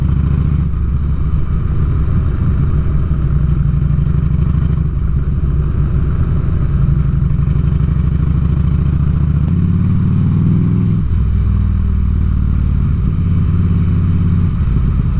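A 2006 Harley-Davidson Ultra Classic motorcycle on the road, its engine a loud continuous low rumble with wind noise, steady throughout with slight shifts in pitch, no talk.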